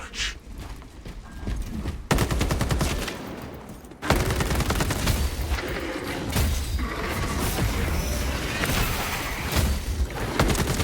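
Dense, loud bursts of video game gunfire crackle almost nonstop, with a sharp jump in intensity partway through and no break in the shooting.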